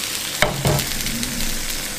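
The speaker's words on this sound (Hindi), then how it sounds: "तो यहाँ पर 3 से 4 minute medium to high heat मैंने ये डोसा पका लिया" A rice flour dosa cooking on a pan over medium to high heat gives a soft continuous sizzle, with a couple of brief knocks or scrapes near the start.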